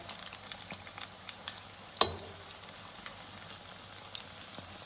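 Dahi bhalla frying in oil over moderate heat: a steady, fairly quiet sizzle runs throughout, with one sharp clink near the middle as a spoon turns them over.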